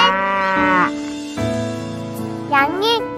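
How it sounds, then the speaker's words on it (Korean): A cow moos on a farm in the morning, a few drawn-out, tonal lowing calls layered over a soft, steady musical backing in a children's story setting. "소가 말해요. 음메."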